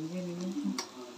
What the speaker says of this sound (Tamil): அப்படியே கொஞ்சம் வதக்கிட்டே இருக்கணும், நல்லா வதங்கணும். ஒரு பத்து நிமிஷத்துல வெங்காயம் வதங்கணும்.